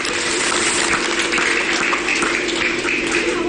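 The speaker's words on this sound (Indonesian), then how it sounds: "Tepuk tangan." Steady applause from a crowd at a Maulid Nabi celebration in a mosque courtyard in Bangkalan, Madura, a dense, even wash of clapping that holds at a constant level throughout.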